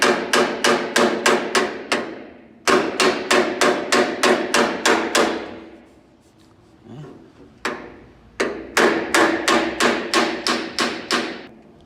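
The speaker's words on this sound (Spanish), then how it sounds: "Tenemos otro martillo que yo lo voy a usar para plantar la línea" A hammer taps out a dent in a hard steel car body panel with rapid, evenly spaced metallic blows in several bursts of about eight strikes, separated by short pauses, loud and close.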